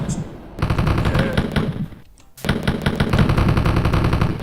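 Machine gun fire in Wolfenstein 3D, loud rapid retro shots in two long bursts split by a brief pause near two seconds.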